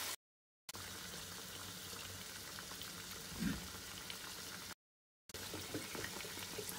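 Potato hash browns frying in a pan, a soft continuous sizzle with light crackle that holds steady at low level, broken by two short silent gaps, with no talk.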